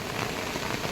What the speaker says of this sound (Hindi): लगातार बहुत तीव्र बारिश हो रही है।